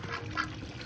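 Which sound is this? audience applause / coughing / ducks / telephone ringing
ducks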